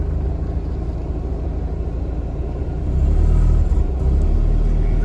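A struggling, smoking Mazda RX-7 FC rotary engine rumbles roughly at low revs, then rises in a heavier, louder surge as it is slowly revved, close to the listener.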